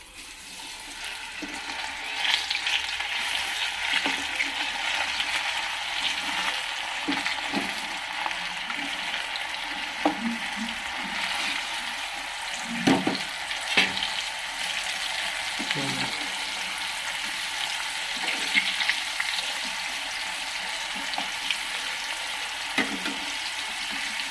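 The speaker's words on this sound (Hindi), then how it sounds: "तेल गरम ही आसला ना। तापर आमे चना के पकामा।" Chickpeas fry in hot oil in a kadai, making a steady sizzle with scattered stirring knocks and scrapes throughout, heard close and without any speech.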